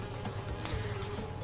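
Bees buzz in the Crash Bandicoot 2 video game, a faint, steady insect drone with small flutters and no speech over it.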